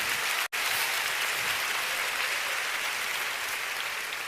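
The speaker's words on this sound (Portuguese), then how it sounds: "Se é para Jesus, você pode aplaudir." A church congregation applauds during a sermon, a dense, even wash of clapping that carries on without pause apart from a momentary dropout near the start.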